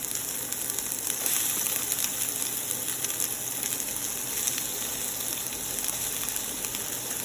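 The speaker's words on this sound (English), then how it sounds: "Oil is nice and hot. I'm gonna add onions." Onions sizzle steadily in hot oil in a pan, a dense and continuous frying hiss, close and even throughout.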